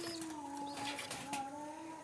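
Jalalia pigeon chicks give soft cooing and chirping calls, close and faint, with a low steady hum running under them.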